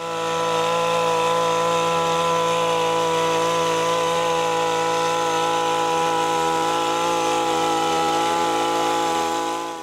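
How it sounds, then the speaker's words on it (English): Stihl petrol hedge trimmer runs at a constant high buzzing whine, loud and unbroken for the whole stretch, with no voices. "This is Still hedge trimmer, popular for its efficiency and accuracy."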